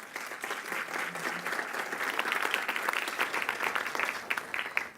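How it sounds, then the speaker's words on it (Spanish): A conference audience at an anniversary event for women's suffrage in Mexico breaks into sustained applause, dense rapid clapping building and holding steady for several seconds, fairly close and full. "un fuerte aplauso para todos ustedes"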